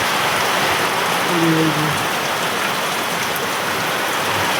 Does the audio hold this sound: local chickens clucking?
no